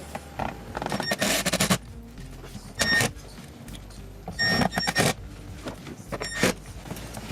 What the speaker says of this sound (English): Now we're ready to screw it all in.